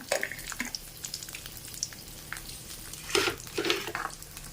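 Mustard seeds fry in hot oil in a home kitchen pan, with faint crackling and scattered small pops over a soft hiss, plus a couple of louder spatter bursts near the end.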